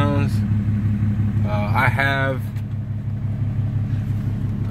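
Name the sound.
deleted 2008 Cummins diesel truck engine starting up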